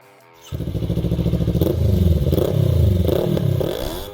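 A Kawasaki Ninja 400 sport motorcycle starts up abruptly and runs close by, its engine pulsing rapidly with rising revs and a rattly edge, loud and steady until the end.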